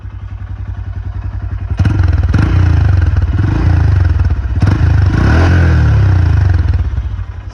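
A Hero Xtreme 125cc motorcycle idles with a steady low exhaust thrum, then is revved several times in short bursts with clattery mechanical noise, close to the machine.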